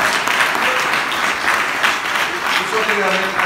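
Loud, steady applause from an audience at a training session, dense clapping filling the whole stretch with a few faint voices mixed in.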